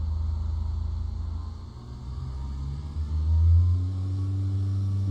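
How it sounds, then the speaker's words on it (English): A small airplane's engine rises as the throttle is gently pushed in, a low steady drone that dips briefly, then climbs and strengthens with a clear higher engine tone, heard close from inside without speech. "I'm going to gently just accelerate and push it in"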